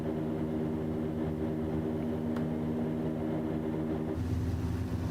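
A small propeller airplane on its takeoff roll, steady engine drone with stacked harmonics that grows louder and rougher near the end, heard from inside the cabin with no talk.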